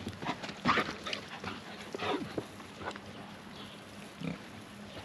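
Pigs and young piglets grunt and snuffle in short, scattered bursts, fairly quiet and close, with small squeals among the low grunts.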